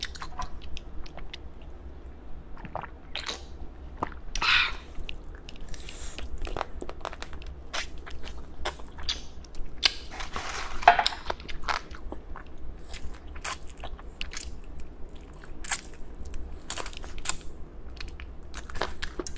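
Grilled chicken feet are bitten and chewed close to the mic, with crisp crunching and wet chewing in an irregular rhythm of sharp bites throughout, and no talking.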